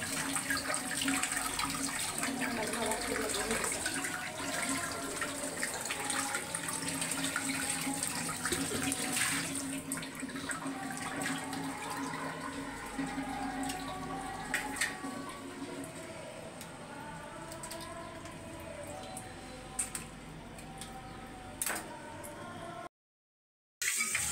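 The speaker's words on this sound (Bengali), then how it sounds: "আপনাদের আপু মাছটা ধুয়ে নিতেছে ভালো করে।" Tap water runs steadily while a snakehead fish is washed clean in a home kitchen, the flow changing now and then as the fish is handled, with a short gap near the end.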